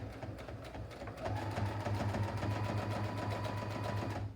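Sewing machine running a short back stitch, a fast steady mechanical whirring with rapid repeated needle ticks, close and continuous, picking up slightly in pace partway through.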